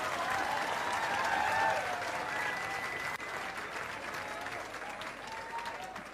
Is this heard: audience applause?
yes